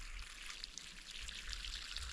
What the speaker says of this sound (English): Let's get this open and let the crap drain out